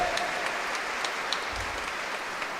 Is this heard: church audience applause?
yes